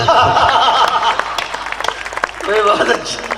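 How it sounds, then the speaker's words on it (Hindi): Audience clapping at a Hindi poetry recital, scattered claps rising and thinning over a few seconds while a voice talks and chants over them. "मंच भी ताली बजाए"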